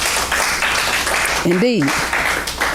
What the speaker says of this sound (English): We need to give a hand clap for that.